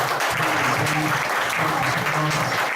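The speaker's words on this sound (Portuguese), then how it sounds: "Você pode aplaudir o nome do Senhor." A church congregation claps steadily and continuously, a dense wash of applause with voices faintly mixed in.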